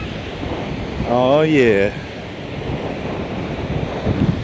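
Ocean waves break on a Fort Lauderdale beach with a loud, continuous surf roar and wind buffeting the microphone; someone speaks briefly near the start.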